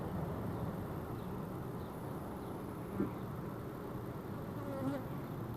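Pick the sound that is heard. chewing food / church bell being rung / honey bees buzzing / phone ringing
honey bees buzzing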